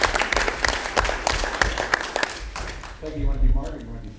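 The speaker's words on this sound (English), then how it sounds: "let's give her a round of applause anyway" Applause for a sixth-grade middle school teacher at a township board of education meeting, a smattering of claps from a modest room that thins out after about three seconds as a voice begins speaking.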